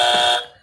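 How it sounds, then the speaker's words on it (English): A harsh electronic buzzer from a hot-or-not quiz game blares in one loud, steady blast for under half a second, then cuts off and fades. "you get to use our annoying morning buzzer"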